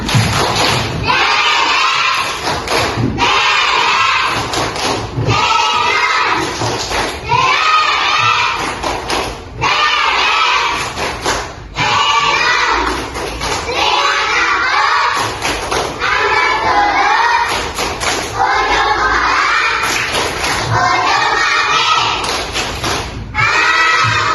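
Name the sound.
class of children doing a rhythmic clapping chant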